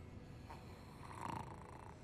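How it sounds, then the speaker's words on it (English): A video game character snoring, a soft low rumbling breath that swells briefly in the middle, faint and steady with no talk over it. "Something snoring."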